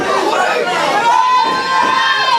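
A wrestling event crowd roars and chatters in a steady, loud wash of voices throughout, with whistles and shouts rising above the din.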